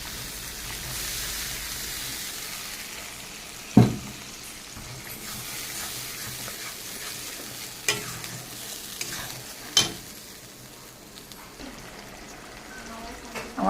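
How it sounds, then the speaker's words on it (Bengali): Onion and tomato paste fry in a pan with spices, a soft sizzle under repeated stirring, with sharp scrapes and clacks of a spoon against the pan at intervals. A voice speaks faintly in places. "এর ভিতরে দিয়ে দেবো আমি কিছুটা টমেটো বাটা"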